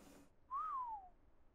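A single clear whistle command from the video game Ark: Survival Evolved rises and then slides down, a short loud tone over a quiet background.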